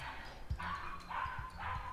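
A dog in the Golf With Your Friends video game barks in short repeated yips, three or four quick calls spaced evenly over a moderate game background.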